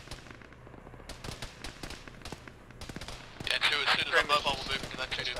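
Scattered gunfire in an Arma ShackTac battle, sharp rifle cracks and short bursts, some distant and some closer, rising to a louder crackling volley near the end.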